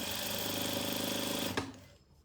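A sewing machine stitches a seam on a patchwork pouch with a fast, even mechanical whir that runs steadily, then stops with a brief clunk, leaving quiet room noise.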